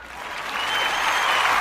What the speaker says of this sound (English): Clapping it up for y'all